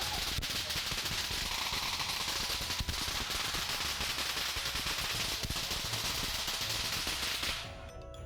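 Rapid, relentless crackling bursts of electric firecrackers popping in a long dense volley in Binondo, Manila, for the Lunar New Year, loud and continuous, cutting off abruptly near the end.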